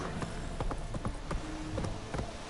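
A horse gallops in The Witcher III: Wild Hunt, with fast, even hoofbeats close by and no talk over them.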